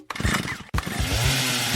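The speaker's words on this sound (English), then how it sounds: "Oh my God, is that a chainsaw?" A chainsaw engine sputters briefly, cuts out for an instant, then roars up loud and steady, revving close by with a harsh buzzing drone.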